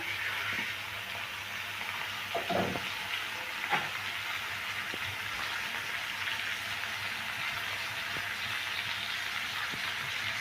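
Spice paste with chopped tomato frying in a pan for a fish-head moong dal, a steady soft sizzle with a couple of brief stirring scrapes early on, fairly quiet and without voices.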